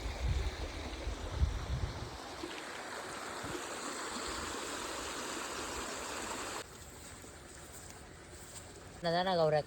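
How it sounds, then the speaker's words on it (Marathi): A village stream flows steadily in a broad rushing wash that drops to a softer, quieter flow partway through, with a brief voice near the end. "ओढ्याच्या पाशी येऊन पोचलोय आपण"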